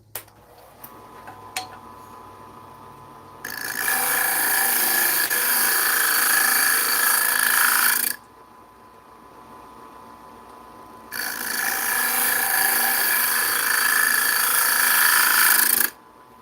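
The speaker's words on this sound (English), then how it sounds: "Let's give her a sand, shall we?" Power sander running in two long, loud, steady bursts of several seconds each, separated by a quieter pause, close by with no talk.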